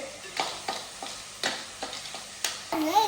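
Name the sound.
stirring food frying in a pan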